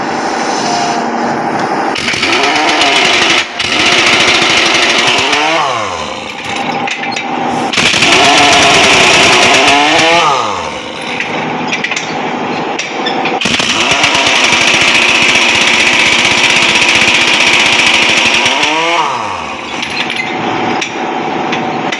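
A heavy-duty impact wrench loosens wheel nuts on a Foton truck, loud rapid rattling bursts several seconds long separated by brief pauses, with whirring spin-down between hammering runs.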